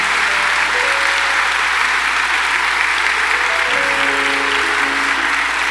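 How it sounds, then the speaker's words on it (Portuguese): Sustained, dense applause from a large crowd, loud and steady throughout without letup. "Quem crê nisso, dá uma salva de palmas bem forte ao Senhor"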